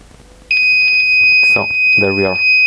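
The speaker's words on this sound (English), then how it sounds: "what's happening here is that the alarm cuts the power just until the temperature is above" A digital power supply's over-temperature alarm starts abruptly and sounds a steady, loud, high electronic tone that continues while someone talks over it.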